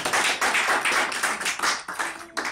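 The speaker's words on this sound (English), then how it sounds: "let's give him a round of applause" A lecture audience claps at the close of a talk, dense fast applause from many hands, fairly close and steady, fading briefly near the end before a final burst.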